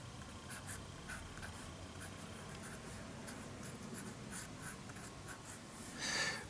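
A brush writes Japanese calligraphy in ink on paper, giving a faint, soft, continuous scratchy swish of strokes against a quiet room with a slight rustle near the end.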